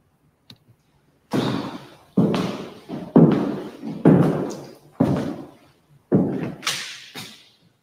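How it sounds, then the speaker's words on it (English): A door is heard in a scary clip, as a series of about seven loud, close knocks and thuds. Each blow rings out and fades before the next, in an uneven rhythm. "It only opened the door."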